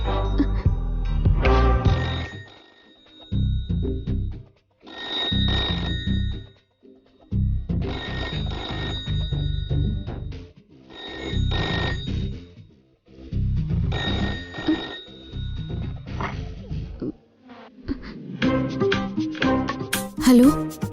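A home telephone rings repeatedly in a Malayalam TV serial scene, regular ring bursts separated by short pauses over about twenty seconds, clear and moderately loud with faint background music.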